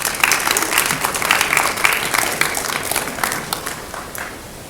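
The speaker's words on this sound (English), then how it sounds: "If you please give him a round of applause." Audience applause at a neighbourhood association's annual community meeting in Minneapolis, a steady round of clapping from a modest crowd that holds for several seconds, then thins out toward the end.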